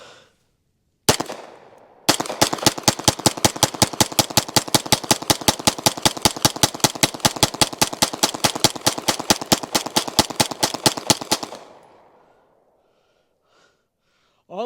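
Staccato HD P4 pistol emptying a 50-round drum magazine: one opening shot, then a rapid, even string of about fifty loud close gunshots lasting roughly nine seconds, followed by quiet.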